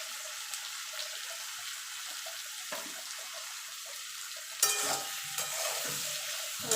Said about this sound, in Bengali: এবার বেগুনগুলো একটু ভাজা ভাজা করে নেব।